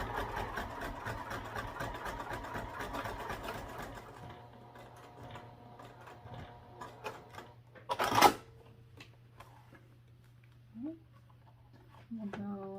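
A sewing machine stitches thick backpack fabric at a longer stitch length, a fast rhythmic whirring run for about four seconds that then stops, followed by quiet room sounds and a few handling clicks.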